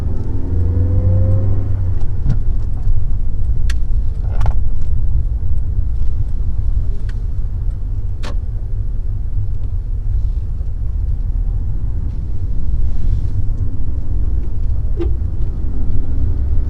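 A Suzuki Aerio facelift compact hatchback drives through a busy roundabout, giving a steady low rumble of engine and road noise close inside the cabin, with a few small clicks and knocks over it.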